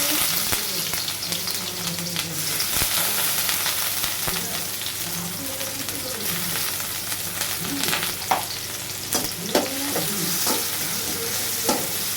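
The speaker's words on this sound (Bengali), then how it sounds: "আমি এখন এটা বাগার দিব জন্য তেল দিয়ে দিচ্ছি" Oil sizzles steadily in a pan, heating up to temper a bottle gourd curry with garlic and onion, with a continuous bright crackle and occasional sharper pops and scrapes close by.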